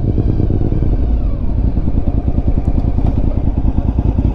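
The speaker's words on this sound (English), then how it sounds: "this bike has gear-driven cams in it, which gives a very nice whining noise" A Honda RC51 V-twin motorcycle with gear-driven cams runs close and loud, its lumpy, rapid firing pulses throbbing steadily with a thin mechanical whine on top and no talking.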